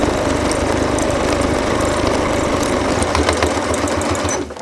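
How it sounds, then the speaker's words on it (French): A sewing machine runs a long holding seam on a car seat cape, a loud, continuous, close mechanical whir with rapid stitching chatter that eases off at the very end. "je fais juste une couture de maintien tout le long"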